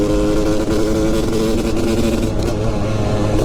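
A Yamaha 250 YZ two-stroke motorcycle engine roars steadily at high revs while riding on a bumpy road, loud, close and continuous with no talk.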